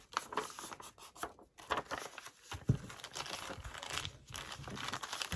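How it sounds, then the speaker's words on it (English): Junk mail packaging paper being ripped and handled by hand, close crinkling and tearing rustles in irregular short bursts, quiet. "I need to rip a little more so I can fold it in a little more"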